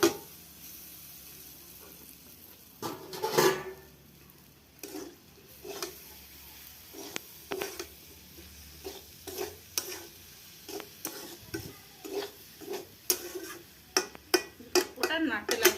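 Olive pickle cooking in a pan with spices as a spoon stirs it, giving a string of sharp metallic scrapes and taps over a soft sizzle, fairly close and uneven in rhythm.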